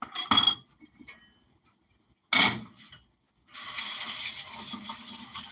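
Hot water runs from a kitchen tap during handwashing, a steady close hiss that starts partway through and continues to the end, after a few earlier clinks and knocks around the sink.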